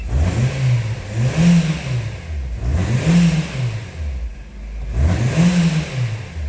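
A 2009 Nissan Cube engine with a fault code P1238 and no-acceleration problem revs up repeatedly, three rising-and-falling surges about every two seconds, loud and close with no talking.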